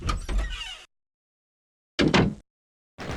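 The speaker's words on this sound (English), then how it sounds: "the more iconic one is the door opening sound" Doom's door opening sound plays as short, loud mechanical sliding bursts, one near the start and another in the middle, with a third beginning at the end, separated by silence.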